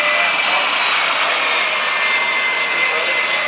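A loud, steady jet-turbine roar of a jet dryer car at Daytona runs continuously and close by, a broad hissing wash with no pauses.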